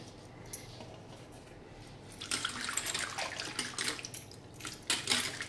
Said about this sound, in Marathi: पुदिना चांगला स्वच्छ धुवून घ्यायचा